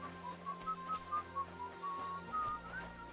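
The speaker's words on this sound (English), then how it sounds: "He's whistling." A character in Kingdom Come Deliverance 2 whistles a short, wandering tune, faint and steady over a quiet background, each note a clear, bright pitch rising and falling.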